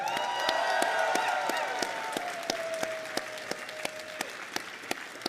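A crowd at an esports match applauds and cheers for a player, a steady wash of clapping and whoops that fades toward scattered claps, with a commentator's voice and a sustained tone beneath.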